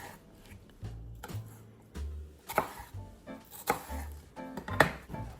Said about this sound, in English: Once we have our tomatoes and our red onions all sliced and diced